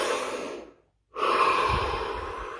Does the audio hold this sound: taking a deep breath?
yes